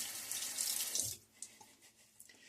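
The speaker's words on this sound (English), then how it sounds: "If you want to take that stick, let me give it a rinse off." Running tap water splashing over a shaving soap stick as it is rinsed off, a steady hiss of flow for about a second that then cuts off, leaving faint drips and handling noises.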